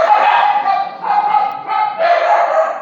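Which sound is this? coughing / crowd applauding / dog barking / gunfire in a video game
dog barking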